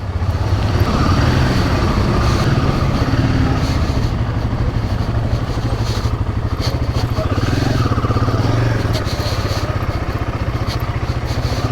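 Motorcycle engine on a test ride along a road near Jibhi, Himachal Pradesh, a steady loud drone of engine and road noise throughout with no break.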